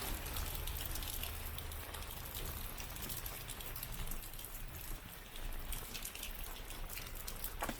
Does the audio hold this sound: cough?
no